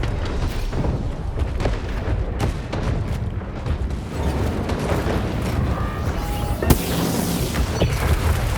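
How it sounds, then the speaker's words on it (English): An artillery shot blows up a robot in the mech game War Robots: Frontiers: a steady, dense barrage of booms and explosions with a sharp crack near the end, loud and continuous, with no speech. "It was destroyed by the artillery shot."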